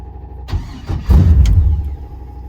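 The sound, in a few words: LS-swapped 2nd gen Firebird carbureted engine starting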